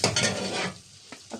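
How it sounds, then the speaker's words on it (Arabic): Rice sautéed in butter in a pot at home, grandmother's old-style recipe: a brief burst of close, dense stirring and sizzling that quickly drops off, followed by a couple of faint scrapes. "انا هعمله بالزبدة. طبعا انا مش هسلق الرز ده، انا هشوحه في الزبدة"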